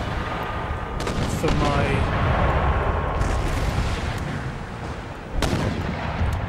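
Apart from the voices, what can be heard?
artillery fire in video game Empire Total War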